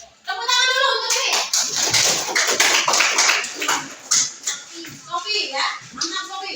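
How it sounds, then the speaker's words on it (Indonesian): Children in a classroom clap their hands together, a dense, sustained burst of applause mixed with excited young voices and chatter for several seconds. "Tepuk tangan dulu untuk ini."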